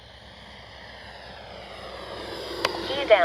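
A radio-controlled F-15 model with twin 64mm ducted-fan jets flies overhead, its smooth whine building gradually in loudness, while people talk nearby.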